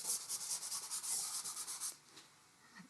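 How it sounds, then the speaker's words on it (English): Rapid back-and-forth rubbing of brown color into a drawing, a steady scratchy swishing that runs for about two seconds and then fades to quiet, close and fairly soft, with no voices. "And we're going to rub it all in."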